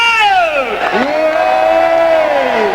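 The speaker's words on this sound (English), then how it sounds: "give us a big round of applause with loads of cheers" A convention crowd cheers and whoops loudly and steadily, with strong rising and falling voices sweeping across the din rather than clear clapping.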